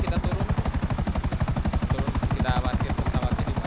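Aircraft landing in GTA 5 Online, a steady pulsing engine drone that fills the whole stretch loudly and evenly, with gunfire-like rhythmic beats and no voices over it.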